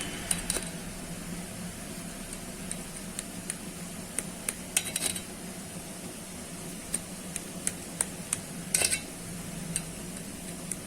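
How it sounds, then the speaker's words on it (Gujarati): A knife scores slits into steamed rava dhokla in a metal pan, producing light intermittent scraping and clinking taps, close and fairly quiet, with small clusters of sharper contacts spread across a faint steady background. "હવે આમાં આપણે આ રીતના કાપા પાડી લેશું"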